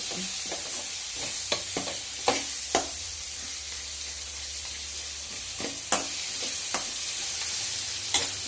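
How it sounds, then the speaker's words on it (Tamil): Dosa batter sizzling on a hot griddle with oil, a steady close crackle broken by scattered sharp clicks and scrapes, with no talking. "தோசை கல் காஞ்சிருக்கும் தோசையை சுட்டுட்டு எண்ணெய் தான் கொஞ்சம் கூட ஊற்றிட்டே"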